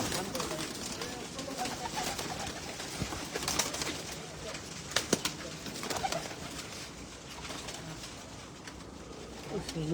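Pigeons coo softly in a steady, low murmur, joined by a few sharp clicks and faint flutters, while someone talks quietly nearby.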